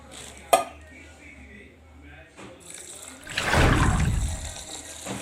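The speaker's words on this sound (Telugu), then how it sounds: "అరకప్పు పెసలు, అరకప్పు ఉలువలు, ఒక అరపావు బియ్యం అండి. వీటిని బాగా వాష్ చేసుకొని" Soaked lentils and rice being washed in water in a kitchen: a sharp clink of a vessel, then a rising splash and slosh of water from a tap, close by.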